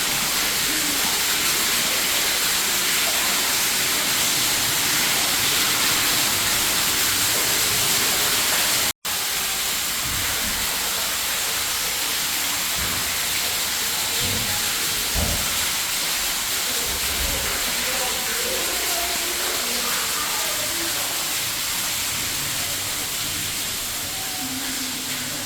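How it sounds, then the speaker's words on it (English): An indoor waterfall inside an ice age exhibit at the Cincinnati Museum Center, a loud, steady broadband rush of falling water filling the space, continuous throughout with a brief dropout partway. "It's getting very loud because there's an actual waterfall up here."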